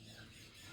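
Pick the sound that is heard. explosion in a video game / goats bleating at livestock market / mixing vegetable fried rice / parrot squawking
parrot squawking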